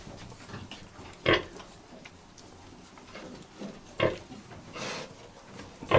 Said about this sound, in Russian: Вот такие поросята.